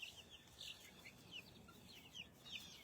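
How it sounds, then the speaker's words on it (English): Baby chicks in a backyard give repeated high, thin peeping calls in quick short bursts, faint and somewhat distant over a low outdoor background, with no one speaking. "all the baby chicks are in the backyard today"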